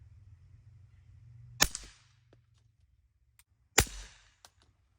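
Two sharp, muffled .22 gunshot cracks through an Oculus suppressor, about two seconds apart, each with a short decaying tail over a low background hum.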